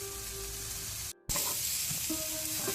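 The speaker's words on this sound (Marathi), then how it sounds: "त्यात कायलीक पियाव घालून बसो। पियाव इल्लो नारली घालया।" Onion and coconut roast in a pan for a Mangalorean curry, a steady close sizzle briefly cut to near silence, then resuming with stirring clatter and a faint tonal hum, no voices.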